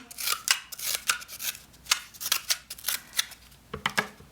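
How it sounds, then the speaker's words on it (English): Scissors snipping paper for a children's craft, a quick series of crisp, close cuts in an uneven rhythm, about a dozen snips with no talking. "So you're gonna snip on one side, snip on the other side"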